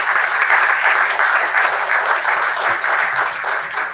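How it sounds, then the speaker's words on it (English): A crowd of parents and kids at a city council meeting in Imperial Beach applauds, giving steady, dense clapping that holds for several seconds at close range with no talk over it. "Let's give you guys a round of applause."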